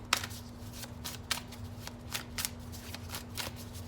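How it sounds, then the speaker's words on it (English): A Tattoo Tarot card deck being shuffled, giving repeated quick riffling bursts at an irregular rhythm, close and fairly quiet over a steady low hum. "And I'm just going to keep shuffling until we get some more cards."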